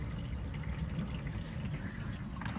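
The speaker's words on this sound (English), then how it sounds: "I can hear the tank filling up, which is good." Water running into an underslung fresh-water tank fitted beneath a VW LT35 campervan, a steady low rushing and gurgling fill that carries on without a break, heard up close with no voices.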